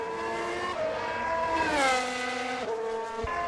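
Formula 1 car in the F1 2018 video game spinning around after contact at Baku City Circuit, engine tone swooping down and up with tyre scrub and squeal, short and moderately loud, no talk.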